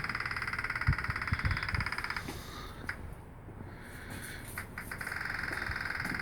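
A small soil moisture meter in wet potting soil emits a buzzy, rapidly pulsing tone, which drops out for a couple of seconds and then returns, with faint crackles underneath.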